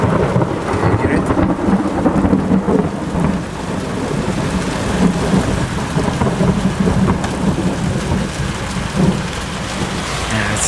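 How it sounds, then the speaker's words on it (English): Thunder rumbles through a Florida thunderstorm with intra-cloud lightning strikes nearby, a steady wash of heavy rain drumming on surfaces throughout, the low thunder rolling loud and continuous beneath it with no talking. "Let's hear the thunder."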